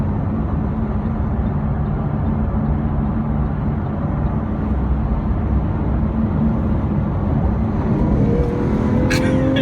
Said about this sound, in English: Y'all can hear the sound of this engine.